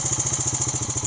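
A motorcycle engine running after being started with the electric starter button, a steady, close, rhythmic idle putter with no talking over it.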